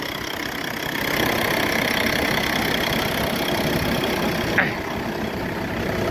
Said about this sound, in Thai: เดี๋ยวดับเครื่องก่อน